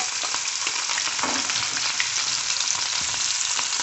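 Jackfruit seeds deep-fry in hot refined oil, a dense, continuous bubbling sizzle at steady loudness, heard up close with faint stirring underneath and no voices.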